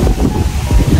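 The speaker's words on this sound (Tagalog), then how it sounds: "Ang hangin, grabe." Strong wind buffets the microphone in heavy, rumbling gusts by a poolside at a beach club, loud and close, with no clear voices.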